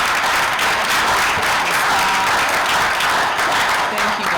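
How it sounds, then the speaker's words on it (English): Dense, loud applause from a community meeting audience, a steady wash of many hands clapping with a faint murmur of voices underneath. "just one more round of applause for everybody."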